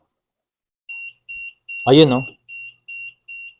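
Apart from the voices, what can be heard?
Arduino RFID home automation intruder alarm beeping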